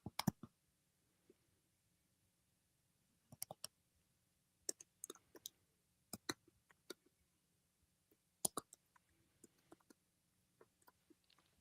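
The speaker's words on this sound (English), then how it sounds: "Dave, I can hear you while you're typing" Sparse, faint clicks of typing on a computer keyboard during a live call, coming in short scattered bursts over a quiet background.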